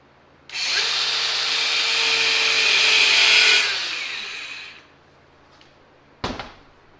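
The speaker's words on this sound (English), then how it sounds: "So I have my cutoff wheel. I'll come in." A cutoff wheel on a power tool grinds through a shaft on a Subaru Sambar KS4 truck during a body lift install, a loud sustained high-pitched whine of about three seconds that winds down, followed by a brief clank.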